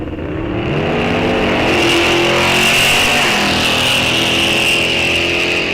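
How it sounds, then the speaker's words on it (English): A turbocharged Chevelle muscle car launches hard off the line at a fall drag race at Rock Falls Raceway, its engine a loud, sustained roar that builds quickly and holds steady and close throughout. "Gets out of the hole decent in the Chevelle this time."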